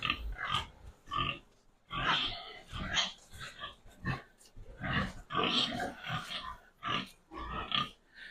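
A three-day-old piglet grunts and squeals repeatedly in loud, close bursts while being handled for routine procedures, with short pauses between the cries.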